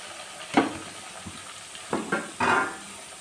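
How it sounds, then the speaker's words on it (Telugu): Vegetable pieces dropped into hot spiced tempering for sambar, with sudden loud bursts of sizzling and splashing between quieter stretches, close up. "తర్వాత నెక్స్ట్ ఈ కూరగాయ ముక్కలను వేసేస్తున్నాం."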